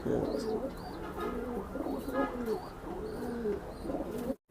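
Racing pigeons coo in repeated soft, throaty rolling phrases, close by and fairly steady, with a few higher chirpy notes mixed in.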